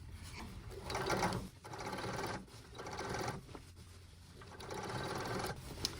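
A blind stitch sewing machine hems sheer drapes with a steady mechanical whir and rapid stitching rattle, running in several bursts separated by short pauses, close and moderately loud.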